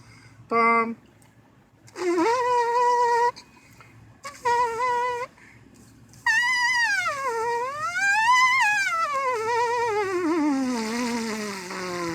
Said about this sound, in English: I don't even know what note I'm buzzing. Sounds like a high C.